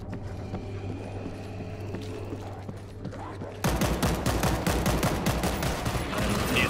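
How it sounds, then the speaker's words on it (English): A heavy weapon in the World War Z video game opens up midway into sustained rapid fire, loud and dense bursts following a quieter stretch of ambient game noise and mechanical clatter. "Found a heavy weapon. Let's give it a try."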